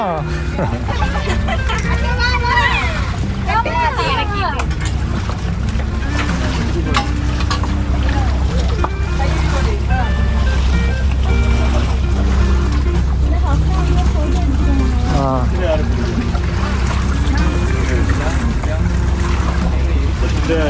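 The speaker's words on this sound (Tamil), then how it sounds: "ஸோ இதோட பேர் வந்து ஸ்பீட் போட்." A speed boat on the Alleppey backwaters, its engine droning loud and constant with water rush and wind, while people talk over it throughout.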